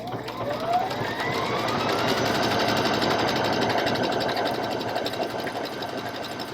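Electric sewing machine stitching fabric, running smoothly with a fast, even mechanical whirr and rapid needle clatter that holds steady and close from start to finish.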